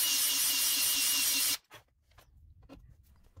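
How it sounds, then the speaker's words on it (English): A power drill whirs steadily into drywall to make holes for anchors, a loud continuous buzz that cuts off abruptly, followed by faint handling clicks. "Now simply drill the holes for the anchors."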